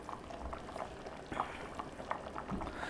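Braising liquid with chicken bubbles softly in a pot, scattered quiet pops and gurgles over a low simmering wash.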